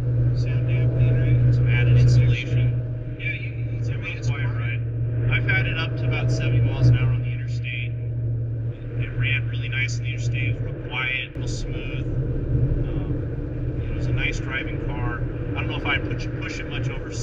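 A 1974 Plymouth Duster with a slant six and three-speed cruises at 40 mph in a quiet, insulated cabin, its engine a steady low hum beneath the people talking throughout.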